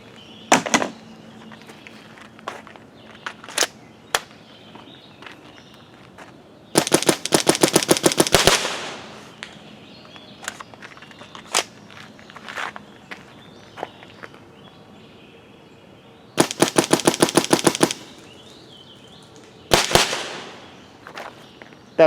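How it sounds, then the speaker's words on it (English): A Planet Eclipse Emek MG100 magfed paintball marker fires rapid bursts of sharp pops, two long strings of quick shots plus scattered single shots and clicks, loud and close outdoors. "I'm going to try and shoot it a little faster with the next magazine."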